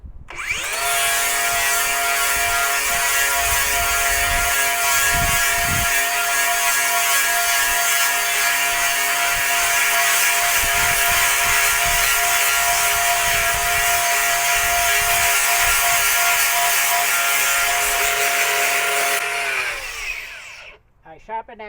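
Shearex HM70 shearing teeth are sharpened on a grinder, a steady loud whirring hum with scraping contact that runs unbroken for about twenty seconds before winding down, with speech faintly underneath.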